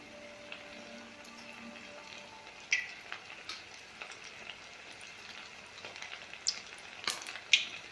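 Chicken pieces fry in oil over a medium flame, a quiet, steady sizzle with scattered pops and spits that grow busier toward the end; no one speaks.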